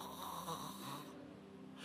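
A voice imitates snoring with a single short, rough nasal snore during a sermon.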